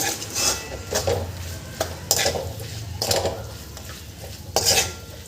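A Bhogi vegetable curry with salt gets stirred in a pot, with repeated close scraping and clanking strokes of a spoon against metal over a soft frying sizzle, in irregular bursts, no talking.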